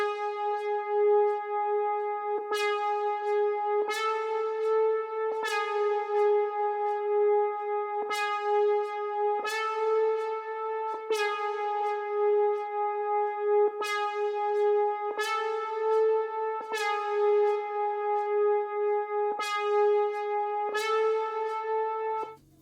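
A simple synth lead plays on its own, a bright sustained tone moving between two notes with regular attacks, steady and moderately loud.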